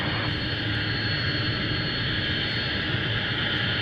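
A Boeing Dreamliner jet taxiing under its own power at Paine Field, a steady broad engine roar and whine held at an even level throughout, with no talk.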